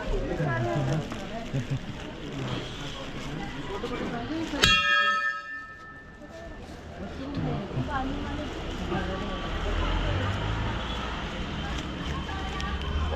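Temple bells ring at the Golu Devta temple, a sharp bell strike standing out with a lingering metallic ring amid a busy crowd, with people talking throughout.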